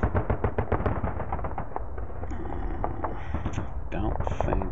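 Artillery fire in the war game Sealion '40: a rapid run of sharp thumping shots opens the clip, then scattered blasts and rumbling follow while someone talks over them.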